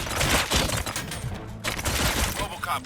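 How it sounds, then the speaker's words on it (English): Gunfire in the Robocop Rogue City video game, a loud burst of sharp, cracking shots packed closely together, with a brief gap partway through and voices mixed in among them. "Gunshots? What's going on?"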